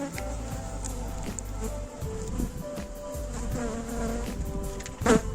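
Honey bees buzzing in an opened hive, a dense steady drone of many wings close by, with a brief louder scrape or knock of hive frames near the end.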